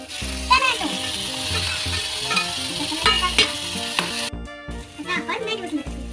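Tomatoes being sautéed and stirred in a pan for masala Maggi noodles give a light sizzle and scraping stirs beneath steady background music.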